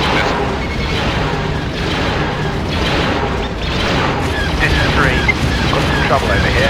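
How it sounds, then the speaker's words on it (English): Starship laser fire and booming missile explosions in the Star Wars space combat video game TIE Fighter, a constant loud rumbling roar of space battle with bursts layered on top and radio chatter over it. "I've got a starship firing at me. Hey, 1! Watch out! Incoming missile."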